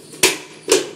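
A heated knife cuts through a broom in two quick strokes, each a sharp crunchy rasp with a swift onset that fades within a fraction of a second. The cuts are close and loud, with a short gap between them.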